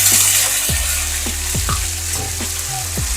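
Cumin, curry leaves, whole spices and spice paste sizzling in hot oil, a steady close frying hiss with a few brief stirring knocks and scrapes, and no talking.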